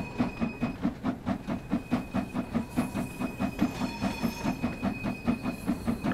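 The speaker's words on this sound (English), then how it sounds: "It just takes a long time for a steam engine to get moving when it's pulling this much weight" A steam locomotive hauling a heavy train up a slight 0.3% grade chuffs in a slow, even rhythm as it gets moving, with steady exhaust beats and a faint high whistle-like tone.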